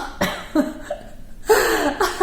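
A voice repeatedly imitates a guttural Arabic letter with raspy, throat-clearing exhalations, several short bursts spaced across a couple of seconds, close and dry.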